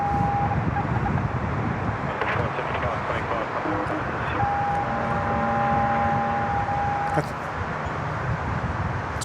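Open-mic noise on air traffic control radio at Sydney Airport: a broad hiss with faint, steady tones held for a few seconds, under a layer of muffled background sound.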